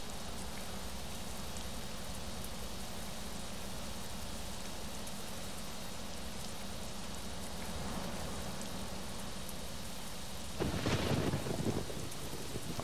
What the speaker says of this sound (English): I do like a thunderstorm.